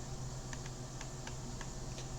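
Several faint keystrokes on a computer keyboard while entering commands during a Devuan Linux install, spaced irregularly over a steady background hum.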